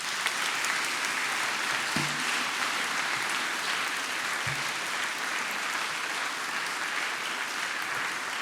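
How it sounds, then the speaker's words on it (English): Graduation ceremony audience at the University of Manchester applauding family and friends, a steady sustained wash of clapping from a large hall throughout, fairly loud and unbroken. "And now give a round of applause to your family and friends."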